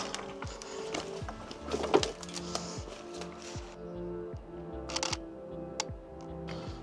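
Camera shutter firing in a rapid series of clicks while photographing abandoned Swiss locomotives, close and crisp, with clattering handling noises in between.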